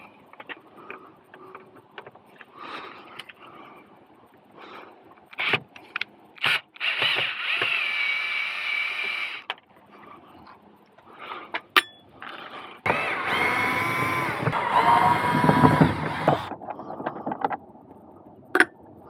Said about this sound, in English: I'm going to start by taking the screw out of here and 3 screws at the bottom